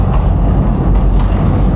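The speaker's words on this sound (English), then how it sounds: "Oh, I think that might be my tram." A tram passing on a street in Calgary, Alberta, makes a loud, close, steady low rumble that fills the whole short stretch without a break.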